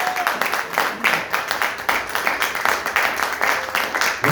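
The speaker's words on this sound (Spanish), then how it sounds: "Un fuerte aplauso para el Señor." A church congregation claps loudly and steadily during a service, sustained applause with dense overlapping hand claps throughout, no pauses.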